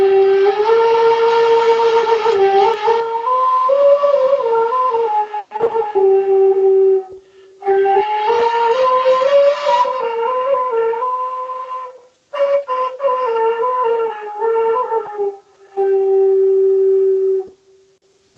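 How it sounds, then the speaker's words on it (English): A Taiwanese flute once used only in headhunting ceremonies plays eerie, sustained, wavering tones. The notes come in four loud, close phrases separated by brief silences, each sliding between pitches. "the only time that they used this flute is when they did headhunting ceremonies"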